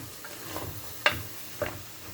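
Rice and vegetables stirred in a pot just after boiling water is poured in, a bubbling hiss with a few distinct spoon scrapes and knocks.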